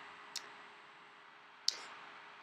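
Two sharp, quiet computer mouse clicks sound about a second apart during music editing in GarageBand on an iMac, set against a faint steady hum.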